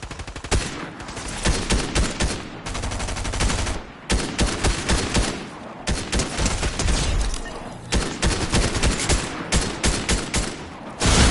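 Dense, rapid automatic gunfire from a Fortnite match, bursts of shots rattling almost continuously with brief gaps, loud and close throughout.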